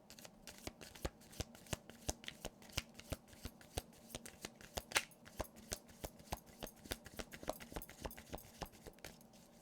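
Tarot cards are shuffled steadily and close up, making a fast, even run of soft riffling flicks and taps that continues throughout.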